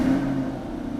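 A 2020 Chevrolet Corvette with an 8-speed dual-clutch transmission has its engine running just after start-up, a brief steady mid-pitched rumble that starts strongest and then settles, close and unaccompanied by talk.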